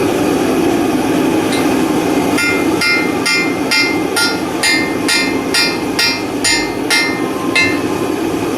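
A hammer forging a heated steel grounding rod rings out in a steady series of about a dozen sharp metallic strikes, roughly twice a second, over a constant roar of the forge.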